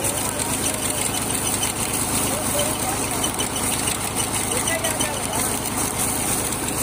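A tractor-driven sugarcane crusher runs with its gears turning fast off the tractor's shaft, giving a loud, steady mechanical drone with rhythmic engine pulsing and rattling throughout.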